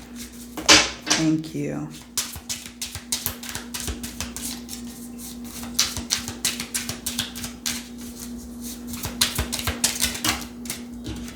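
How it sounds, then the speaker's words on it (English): Tarot cards are shuffled close by in quick, crisp flicks and riffles. A short spoken remark comes near the start over a steady low hum. "I'm going to shuffle with this one."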